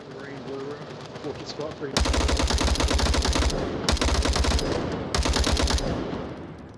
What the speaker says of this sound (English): Shots from Deflade.